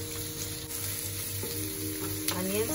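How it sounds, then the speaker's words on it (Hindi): Onions and vegetables sautéing in a pan for Burmese khow suey kari noodles, with a steady close sizzle and frying hiss throughout and occasional stirring scrapes. "इन सबको हमें एक एक करके इसमें पैन में डालना है और सॉटे करना है"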